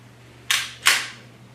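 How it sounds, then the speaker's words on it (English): Two sharp, close metallic clicks about a third of a second apart from the trigger sear of an Archon Type B pistol re-engaging, each crisp and brief over a faint low hum. "Hear the sear re-engage"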